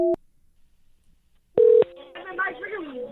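A telephone dialed to call a guest, with a brief keypad tone, a pause, then a longer tone burst followed by a voice starting to speak over the line.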